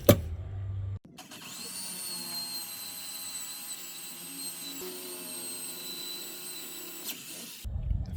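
A power drill bores a hole through wood, a high, steady motor whine lasting several seconds with a slight dip midway before it cuts off abruptly.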